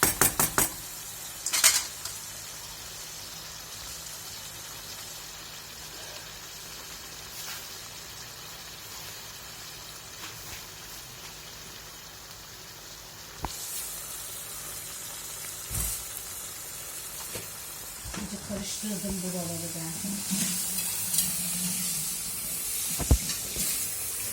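Menemen with eggs cracked over it simmering in a pan, a soft continuous hiss and bubbling under clinks and clatters of cookware and utensils, with occasional louder knocks near the start and end.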